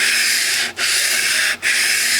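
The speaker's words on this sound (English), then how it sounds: "We should be able to take those out with this 150 grit sandpaper." Steel on a gun is hand-sanded with 150 grit sandpaper in long back-and-forth strokes, a loud, close, gritty hiss broken by two short pauses where the stroke changes direction.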